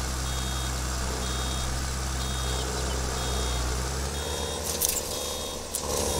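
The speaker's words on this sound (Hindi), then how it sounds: "ये अलार्म बज गया यार इसका" Tractor reversing alarm in Farming Simulator 22 with a New Holland 3630 mod, a steady series of evenly spaced high beeps over a constant engine drone, with a couple of brief clatters near the end.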